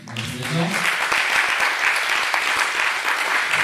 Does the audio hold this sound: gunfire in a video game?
no